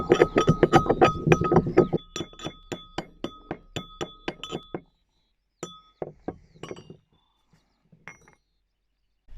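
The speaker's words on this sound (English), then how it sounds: "I'm just going to stir it in" A utensil clinks rapidly against a glass while ground horsetail is stirred into a homemade toothpaste mixture, bright repeated taps that slow, thin out and stop with a few scattered clinks after.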